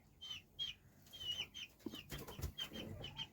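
Young chicks being moved out to pasture on a meat-chicken farm give a run of high, repeated peeps, joined by a few low knocks and rustles as they are handled.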